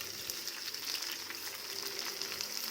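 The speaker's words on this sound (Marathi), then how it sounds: "सगळी बाजूने ही भाजून घ्यायची गॅस एकदम कमी ठेवला मी" Masala-stuffed okra pan-frying on very low heat, giving a soft, even, continuous sizzle that stays quiet and constant with no speech.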